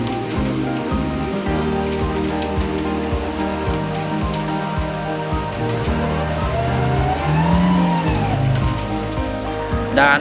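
A light-laden car stuck in rain-soaked mud, its engine droning at steady high revs with rising and falling pitch for about ten seconds, close and loud.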